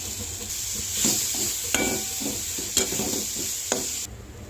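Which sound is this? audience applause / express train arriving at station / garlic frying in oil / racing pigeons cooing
garlic frying in oil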